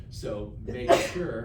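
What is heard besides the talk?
sneeze in a classroom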